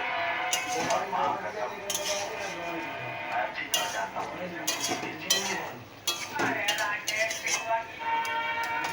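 Fried lentil fritters stirred in a cooking pot for an old-style chapor ghonto: repeated metal spoon scrapes and clinks against the pot, with someone talking over the cooking.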